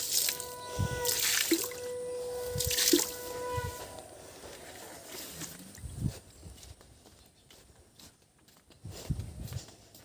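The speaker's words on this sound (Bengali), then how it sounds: "সকালবেলা আমি বাসি সিঁড়িতে জল এরকম করে জল দিয়ে দিই" Water being splashed onto stairs in the morning, with several irregular wet slaps and splashes, some near and louder, others softer, over a faint background with a steady tonal hum early on.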